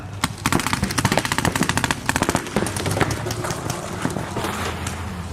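Rapid bursts of gunfire crack close and loud during a firearms shooting drill, the shots coming in quick clustered volleys before thinning into a rougher steady noise.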